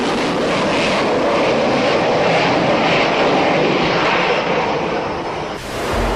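A-6 Intruder jet attack aircraft, fully armed and heavy, on a carrier catapult: a loud, continuous engine roar that holds steady, then dips and surges near the end.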